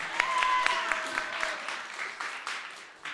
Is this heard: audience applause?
yes